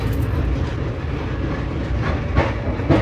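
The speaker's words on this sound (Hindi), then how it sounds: "अभी ट्रेन डिपार्ट कर चुकी है पनवेल से" The Jan Shatabdi Express on the Konkan Railway rumbles out of Panvel station, a steady, loud roar of wheels and carriages with rhythmic clickety-clack from the rails and no talking.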